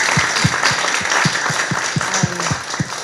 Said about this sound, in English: Round of applause for all of your contributions.